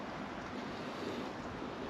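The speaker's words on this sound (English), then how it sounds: "it's pretty windy" Outdoor wind buffets the microphone in a steady, muffled rushing roar, close and fairly even throughout with no voices.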